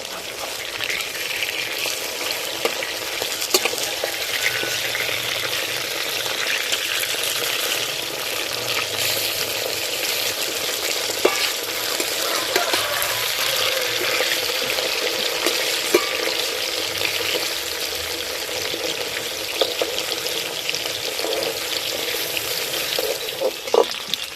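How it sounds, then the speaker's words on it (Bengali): Pieces of fish frying in hot oil for a fish curry, a loud continuous crackling sizzle close by, with scattered pops and clicks as the fish are turned over in the pan. "মাছের এক পিঠ ভাজা হয়ে গেছে, এবার মাছগুলো উল্টে দেবো।"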